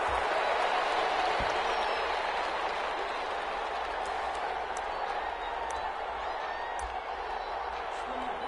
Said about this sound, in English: This crowd is ready as their guys get set to match up between the Cleveland Browns and the Indianapolis Colts.